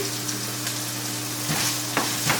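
Minced chorizo and onions sauté in a pan with a constant close sizzle, broken by a few spatula scrapes and stirs toward the end, over a low steady hum in the background.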